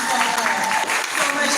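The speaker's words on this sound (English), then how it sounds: "let's go ahead and give another applause for this" Audience applause at a men's wellness summit, a brief continuous burst of clapping with a voice speaking over it.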